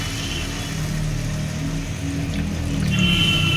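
Water pours into a simmering fish curry in a pot, a steady close rushing splash over a low background hum, rising slightly toward the end.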